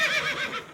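A cartoon horse named Horatio lets out a single loud, close whinny, its wavering neigh rising and falling for under a second with no talk over it.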